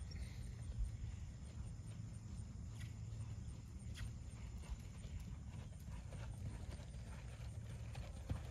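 Horse hooves at a lope during a level 3 riding test, a steady rhythmic clip-clop of footfalls heard faintly at a distance over a low background rumble.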